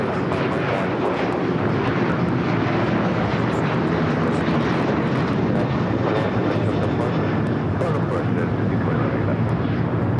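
A jet airliner roars down runway 25 right at LAX on its takeoff roll, a loud, steady broadband engine rumble filling the whole stretch without a break.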